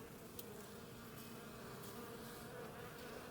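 Honey bees buzz in a steady, continuous hum around a hive during cleansing flights, faint and unbroken with a few brief nearer passes.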